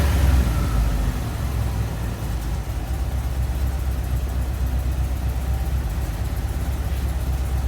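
A car engine running at a steady idle around 1,000 RPM, a low, even rumble that holds constant and close throughout with no revving.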